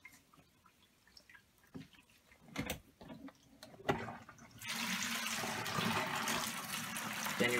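A portable washer drains water, starting with scattered knocks and drips, then a steady rushing flow of water that takes over in the second half.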